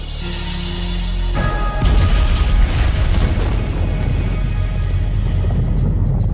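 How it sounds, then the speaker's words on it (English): An underwater TNT charge detonates below a cliff top, a huge deep boom that settles into a long, loud roaring rumble of churning water. "Up there is where you're going to see it go boom."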